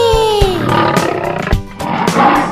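A lion lets out a loud, drawn-out roar that slides downward in pitch, set against a children's song and accompanying music.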